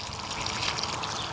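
Rose plants are watered with a fertilizer solution, an even, nearby pouring rush of liquid with no pauses.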